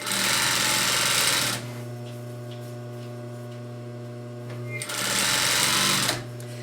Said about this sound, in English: we're going to sew all 3 edges together 1/4 inch away from the edge